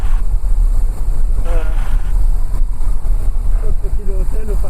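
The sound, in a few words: small aircraft engine running at 1200 rpm before shutdown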